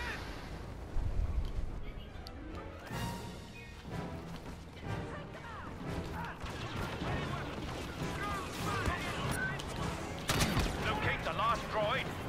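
Star Wars Battlefront video game gunfire, rapid volleys of blaster shots and bursts of battle noise running continuously at a moderate distance, with speech over it.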